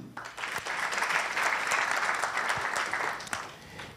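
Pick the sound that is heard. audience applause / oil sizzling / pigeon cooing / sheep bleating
audience applause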